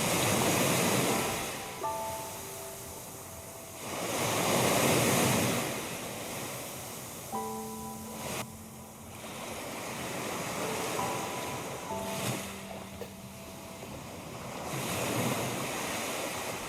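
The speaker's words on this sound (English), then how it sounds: "listening to the wonderful sound of the waves lapping the beach and the rocks" Sea waves lapping a beach and rocks on an island shore, swelling and receding in slow surges with wind noise on the microphone and faint tonal sounds in between.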